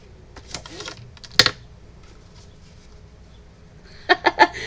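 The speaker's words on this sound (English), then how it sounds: "She's moving over so she can give me some more directions from her laptop and type faster." Fingers type on a laptop keyboard in scattered taps, then a sharp cluster of quick clicks, close and crisp against a quiet room.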